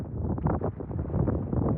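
Steady, strong tornado-storm wind buffets the microphone with a dull, continuous roar that swells and dips slightly throughout.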